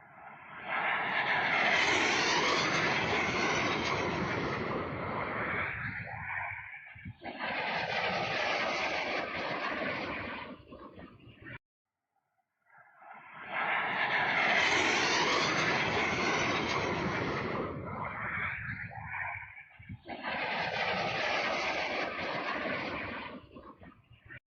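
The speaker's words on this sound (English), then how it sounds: "4 Russian Su-25 attack aircraft over the Kharkiv Oblast." Russian Su-25 attack aircraft fly over Kharkiv Oblast, making a loud, broad jet roar. The roar swells and fades in long passes, with a brief silent gap midway.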